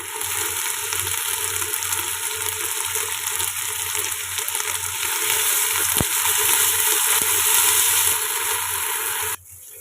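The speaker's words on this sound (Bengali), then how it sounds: "মশলাটা খুব সুন্দরভাবে কষিয়ে নিয়েছি মাংসটা দিয়ে" Ginger, garlic, green chili and cumin paste fries with meat for biryani in a hot pan. A loud, steady sizzle hisses close by and swells slightly toward the end, then cuts off abruptly, with no talking.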